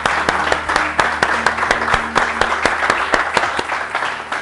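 Church congregation applauding during a sermon, a close burst of uneven rhythmic clapping with sharp individual claps and no talk.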